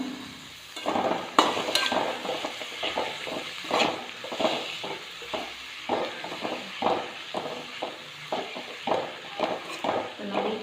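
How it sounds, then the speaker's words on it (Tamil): Quartered button mushrooms get stirred into sautéed onions in a pan: repeated rhythmic scrapes of a spoon against metal over a soft sizzle, close and moderately loud, continuing steadily. "நல்லா கலந்து விடுங்க"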